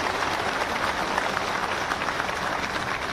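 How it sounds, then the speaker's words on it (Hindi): A large crowd at a BJP rally in Bhopal claps loudly and steadily in a dense, unbroken wave of applause welcoming a party leader, with no voices standing out. "जोरदार ताली से स्वागत किया जाओ"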